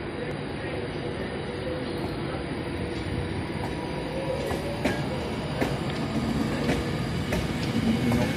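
A Virgin Trains Class 390 Pendolino pulls out of Wolverhampton station with a steady low rumble and rising rail noise, wheels clicking faintly and squealing lightly over track joints as it moves away.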